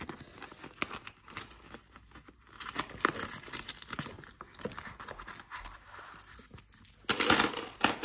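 Small change rattled and shuffled out of a paper envelope, with repeated light metallic clinks and crinkling paper, close and moderately loud, building to a denser burst of handling near the end.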